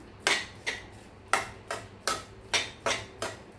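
A spoon scrapes and taps against a pan while a rava laddu mixture is stirred, giving about eight crisp, evenly spaced clinks that sound close and fairly quiet.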